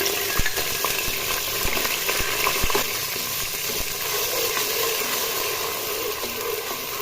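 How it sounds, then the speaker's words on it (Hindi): Garlic ginger paste frying in hot oil with whole red chillies for leftover-rice potato biryani, a dense, loud, continuous sizzle with a few early pops and stirring knocks, close up and alone. "अब हम क्या करेंगे, इसमें लहसुन अदरक का पेस्ट डाल देंगे।"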